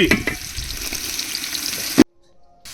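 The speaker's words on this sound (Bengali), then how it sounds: "এই যে আমি পেঁয়াজ দিয়ে দিচ্ছি এখন।" Sliced onions fry in a pan with whole cardamom and other whole spices for a jackfruit seed pulao, giving a loud, steady close sizzle that cuts off abruptly near the end.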